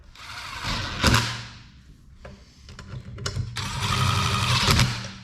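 Bolts being tightened snug in a crisscross pattern on a first-gen Dodge D250 Cummins hydroboost conversion, rapid ratcheting bursts from a power or hand ratchet, close and loud, with brief clicks between runs.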